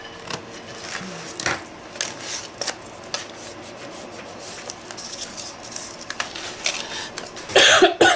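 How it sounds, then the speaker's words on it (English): A person coughs several times during an art craft session with picking and gluing, short bursts set among rubbing and handling noises, with a louder cluster of coughs at the end. "I'm so sorry that I keep coughing on you guys"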